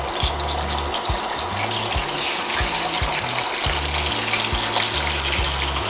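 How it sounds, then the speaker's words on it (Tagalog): Pompano fish, cut in half, fries in hot oil for pesang isda, with a dense, steady hiss and crackle close up and a low hum from the kitchen underneath, and no talking. "Pa-fry lang natin para hindi siya madudurog sa sabaw ng ating pesa."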